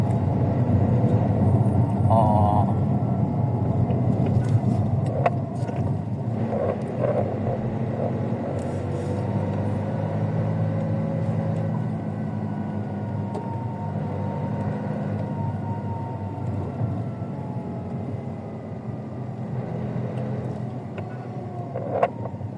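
Road traffic heard from inside a vehicle, a continuous low rumble of engines and tires with occasional faint horn-like tones and passing vehicles, steady throughout.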